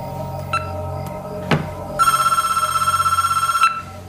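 A telephone rings in a trilling electronic burst, preceded by faint short tones and a sharp knock, the ring clear and fairly close.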